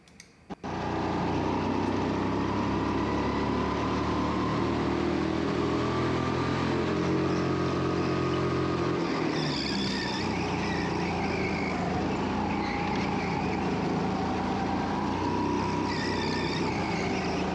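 The Beast go-kart's engine running a lap at XtremeZone, a loud, steady close-up drone with shifting pitch as it accelerates and eases through corners, continuous and without any talk.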